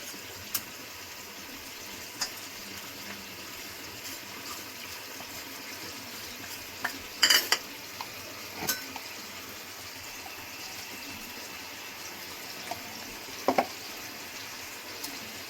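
A cornflour-thickened sauce for chili chicken simmers in a pan with a faint, steady bubbling hiss. Occasional light clinks and scrapes come from the stirring, and a small cluster of sharper knocks stands out midway.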